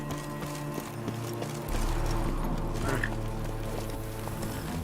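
A horse galloping in The Witcher 3, with steady thudding hoofbeats that pick up and grow fuller partway through, set under a continuous game music and ambience bed, without any speech.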